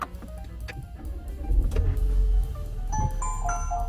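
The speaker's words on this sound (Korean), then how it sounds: "메모리 시트여서 지금 시트가 자동으로 이제 이동을 합니다." An electric motor whirs and hums as a Renault Korea SM6 memory seat slides automatically, with soft clicks and a rising mechanical drone nearby.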